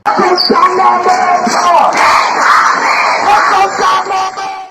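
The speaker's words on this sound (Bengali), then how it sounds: "স্লোগানে মুখরিত হয় ঢাকা বিশ্ববিদ্যালয় সহ সকল শিক্ষা প্রতিষ্ঠান" A large student protest crowd in Dhaka chants slogans loudly and steadily, many voices shouting in rhythmic unison close by, with yells rising above the mass.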